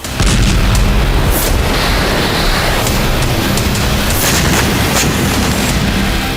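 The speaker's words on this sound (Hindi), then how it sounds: "रूसी सेना ने 22 अप्रैल को X-59 मिसाइल फायर की।" An X-59 missile fired by Russian forces and intercepted by air defences near Belgorod sets off a loud, sustained roaring rumble with scattered crackling bursts, heavy and continuous throughout, with no voices.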